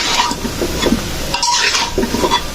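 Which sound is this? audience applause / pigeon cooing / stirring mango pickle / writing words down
stirring mango pickle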